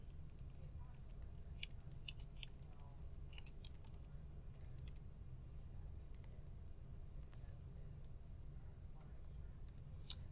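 Soft keyboard typing and computer mouse clicks tap away quietly at a desk, scattered light clicks over a low steady hum with no voice heard.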